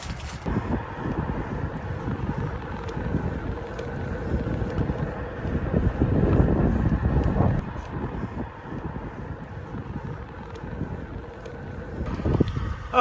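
Steady wind roars across the microphone while cycling across Canada, a continuous low buffeting rumble that swells in the middle and ends with a gusty thump.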